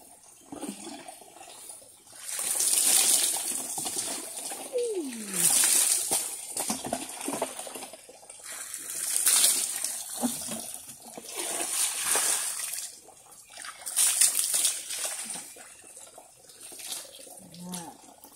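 Repeated bursts of water pouring and splashing at an outdoor water spout, as if scooped and poured over someone bathing, separated by short quieter pauses.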